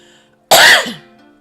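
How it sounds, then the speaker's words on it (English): A single sharp, forceful throat clearing, close and loud, sounding almost like a cough and fading quickly into quiet. "Let me clear my throat."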